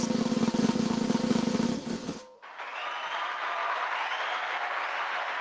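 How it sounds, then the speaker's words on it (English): Applause fills a room at a fintech awards ceremony, a dense sustained wash of clapping that cuts off abruptly partway, followed by a quieter, hissy background. "I like the clapping."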